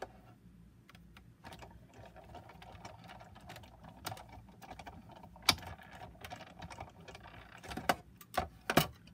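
A tabletop die cutting machine cranks a small paper flower centerpiece through its rollers with a soft, steady mechanical rumble and scattered sharp clicks and clacks that grow louder toward the end, heard close up with no talking.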